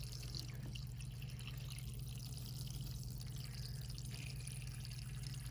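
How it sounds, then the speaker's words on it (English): Water pours from a watering can into pepper seed pots set in trays, a steady close splashing trickle with faint dripping and a low hum underneath, no talking. "And I'm watering down in there."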